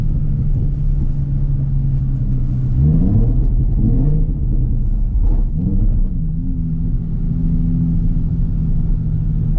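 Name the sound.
Nissan 350Z engine while drifting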